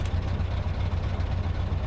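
A truck engine idles in Euro Truck Simulator 2 on an Ireland route, a steady low rumble that is loud and close and holds without change throughout.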